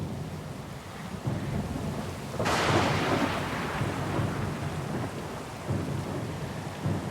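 A thunderstorm at sea in the Pillars of Eternity II: Deadfire video game, with steady rain hissing throughout and a loud crack of thunder that rolls on and fades for several seconds.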